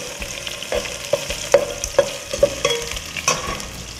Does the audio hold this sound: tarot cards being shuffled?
no